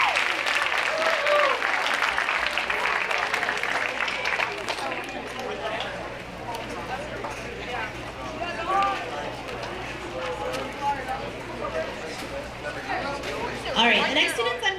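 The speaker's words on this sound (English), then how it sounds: "Let's give those 8th graders a big round of applause." Audience in a school awards assembly applauds 8th graders, sustained clapping that gradually thins, with crowd chatter and voices talking over it, plus a brief cheer near the end.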